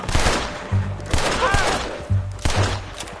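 Repeated gunshots in Red Dead Redemption 2 during a standoff with US Army soldiers, loud close booming shots spaced irregularly amid a noisy shootout.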